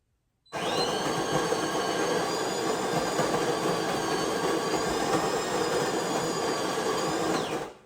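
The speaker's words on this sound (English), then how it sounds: "all I did was hit the 5 beans 5 times in the espresso button, and it is making it" De'Longhi Dinamica espresso machine set to five-bean strength, grinding and starting an espresso: a loud, steady mechanical whir with a high whine begins abruptly and runs evenly for several seconds before cutting off.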